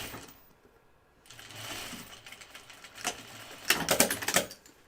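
A sewing machine stitches a seam on a flight suit, starting with quiet fabric handling, then a soft whir that builds into louder rapid stitching bursts toward the end.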